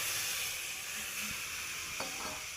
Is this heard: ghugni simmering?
yes